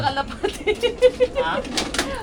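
Racing pigeons loaded in a basket for a training toss coo softly in a short run of low, rounded calls, with someone talking nearby.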